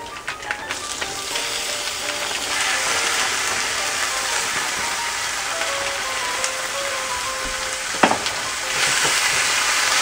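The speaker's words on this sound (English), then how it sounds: "I'm going to wait till this gets seared a little bit before I add the wine." Ground emu meat sears in a hot pan, a loud, dense, continuous sizzle with crackling pops and one sharp clatter near the end, no talk over it.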